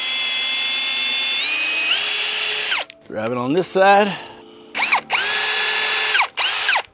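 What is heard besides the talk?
power drill drilling pilot holes in wood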